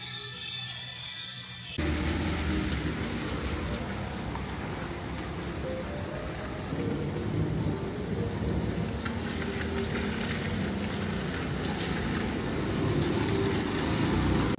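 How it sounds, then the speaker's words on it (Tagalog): Steady heavy rain beginning abruptly after a brief quieter moment, then a dense continuous hiss and patter with a low rumble underneath, heard without speech. "Kaso umuulan ngayon."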